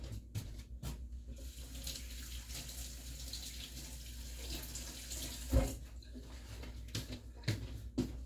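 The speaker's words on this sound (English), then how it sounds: "I'm going to rinse my hands off" Water running steadily from a kitchen tap while hands are rinsed, a continuous splashing flow with a few louder splashes and knocks near the end, heard alone without speech.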